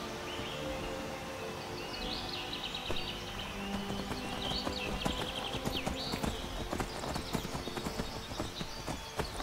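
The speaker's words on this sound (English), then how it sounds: "I wonder how close I should take my horse" Horse hooves clip-clop steadily at a walking rhythm during a ride in the video game Skyrim, close and fairly loud, with birdsong chirping faintly over a light outdoor ambience.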